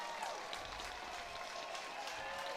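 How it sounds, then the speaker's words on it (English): A tournament crowd at an ISC World Tournament game between the NY Gremlins and the Canadians gives a steady round of applause, faint and distant, with continuous clapping and no break. "listen to the round of applause for Matt Deutsch"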